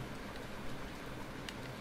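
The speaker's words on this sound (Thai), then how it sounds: "แล้วฝนก็ตกกันนะ" Steady rainfall in a Zelda game, an even patter of drops across the short stretch with a faint brief tick near the end and no talk.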